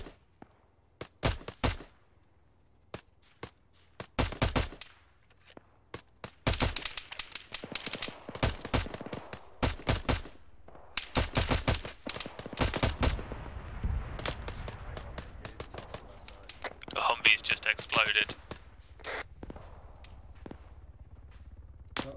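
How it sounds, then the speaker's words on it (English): Gunfire in the military video game ARMA 3 during a recon mission, with scattered sharp shots and bursts at varying distances, some close and loud, others fainter, over roughly twenty seconds. "Roger, yeah, we're taking fire from them."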